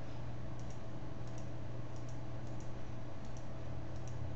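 A quiet run of small mouse clicks, single and in pairs, spaced through a steady hum, as a computer mouse is operated in embroidery digitising software.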